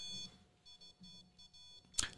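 A ghost-hunting temperature sensor with an antenna sounds a run of short, quiet electronic beeps in a regular pattern, followed by a sharper, louder chirp at the end.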